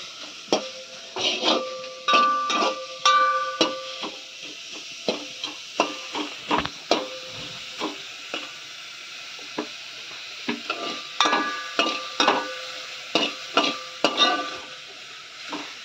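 An onion cooking in a pan with no oil, heard as a faint steady hiss broken by repeated sharp clinks and scrapes of a utensil stirring against the pan, at an irregular rhythm.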